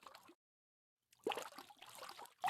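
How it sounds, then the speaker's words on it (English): Synthesized water splashing from Krotos sound-design software, a short splash, a second of silence, then a longer burst of sloshing, bubbling liquid ending in another quick splash, close and dry. "some instant water effects"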